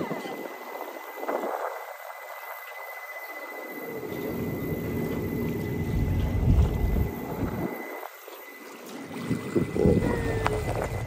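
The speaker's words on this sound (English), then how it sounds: "We're on a boat!" Boat noise on Windermere in the Lake District, with gusty wind buffeting the microphone, a steady low rumble and water wash rising and falling, faint voices in the background.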